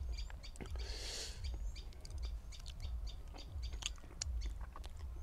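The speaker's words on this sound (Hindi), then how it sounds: "जहाँ पक्षियों की आवाज़ सुन सकते हो।" Birds call at a quiet farmhouse in Jaipur, with scattered faint chirps and tweets spread through a calm outdoor background and a soft low murmur beneath.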